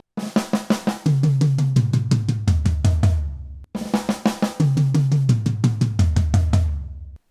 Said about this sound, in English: So I'm going to do the little buzzy drag note with my left hand.